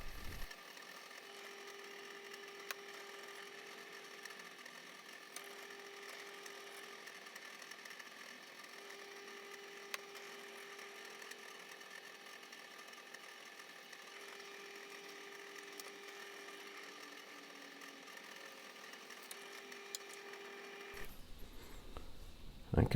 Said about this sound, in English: we come through with the heavy drilling